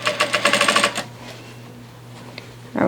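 Vevor industrial sewing machine stitching back and forth over a fabric seam: a quick run of rapid needle thumps, then a lull with a faint motor hum, and another short burst at the end.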